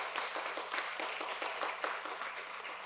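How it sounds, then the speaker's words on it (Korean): Congratulatory applause at a Won Buddhist Dharma title conferral ceremony at the Gangnam temple, a moderate crowd clapping steadily with distinct rhythmic claps, fairly soft and from a middle distance. "또 힘찬 박수, 축하의 박수 주시기 바랍니다"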